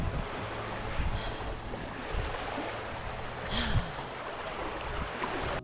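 Waves and water wash around a paddler out on a choppy, cold sea, a steady broadband rush with wind buffeting the microphone and occasional splashes, no talking.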